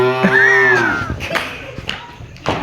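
A boy imitates a buffalo mooing with a loud, close, drawn-out low bellow, followed by bumps and a few other voices in a lively school setting.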